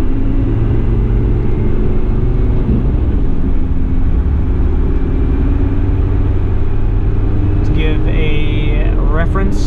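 A 1991 Toyota Land Cruiser PZJ70 diesel 4x4 with coil-sprung suspension cruises on a highway, giving a loud, steady low engine drone and road rumble throughout, with a brief higher whine near the end.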